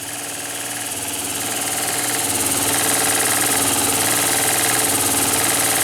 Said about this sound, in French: Il y a une légère différence de son lorsque la pompe appuie sur l'eau et lorsqu'elle l'aspire.